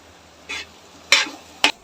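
Onion and potato with turmeric in a frying pan, stirred with a utensil: three short, close scraping strokes separated by pauses, each a quick rasping swipe over a quiet background.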